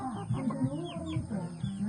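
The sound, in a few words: chickens eating while being fed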